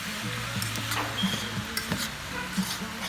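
Vegetables with soy sauce stirred in a hot pan, a steady sizzle with soft scraping strokes of the utensil and faint clinks, close and continuous.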